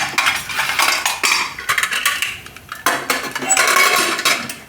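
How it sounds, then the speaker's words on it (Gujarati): Metal clanks and scrapes as a pressure cooker lid is fitted and locked shut over boiling sweet potatoes, a busy run of close clattering and knocking with no voices. "આને આપણે કુકરનું ઢાંકણું બંધ કરી દઈશું"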